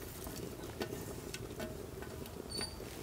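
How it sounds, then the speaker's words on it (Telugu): Chopped onions, green chillies and tomatoes go into dal being cooked in a pot, with a soft steady sizzle and bubbling under scattered light stirring clicks, fairly faint and without speech. "ఇప్పుడు కోసి పెట్టుకున్న ఉల్లిపాయలు, పచ్చిమిరపకాయలు, టమాటాలు వేసేసుకుందాం."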